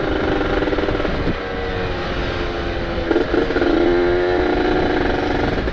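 Ported Kawasaki Ninja RR two-stroke motorcycle engine runs continuously, loud and close, with a raspy buzzing drone that swells into a brief rev near the middle and holds high afterward.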